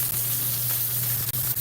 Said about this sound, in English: You get that nice sizzle.